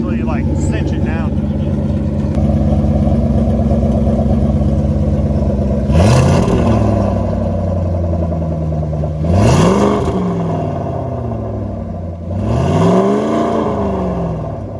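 A Ford Mustang fitted with a bumper-exit exhaust idles with a deep rumble, then revs sharply three times with rising and falling blips, close and loud, with people talking around it.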